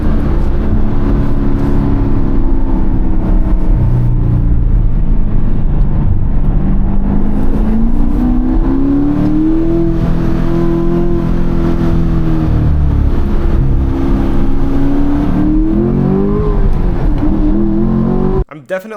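A sports car accelerates hard in a loud, sustained run, its engine note climbing and falling repeatedly through gear changes right up close, ending abruptly.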